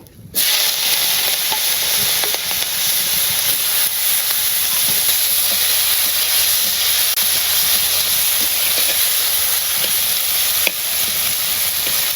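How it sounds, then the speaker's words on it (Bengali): Cumin seeds sizzle in hot oil for a home-style cooking pot, a loud continuous hiss that starts abruptly and holds steady with occasional small crackles. "এটা গরম হয়েছে তেলটা দিয়ে দিই জিরাটা দিয়ে দিলাম"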